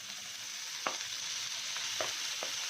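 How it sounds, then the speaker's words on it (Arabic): Calamari sizzles with onion in a hot pan as it is sautéed, a steady frying hiss broken by a few sharp clinks or stirring scrapes, close and fairly quiet, with no talking. "واخده تشويحه كده مع البصله"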